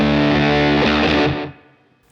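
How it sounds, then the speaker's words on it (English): Electric guitar played through fuzz with a slapback delay from a Source Audio Collider pedal: a loud, thick distorted chord rings out and decays over about a second and a half, with a short repeat trailing behind it. "when I played the fuzzy slapback sound"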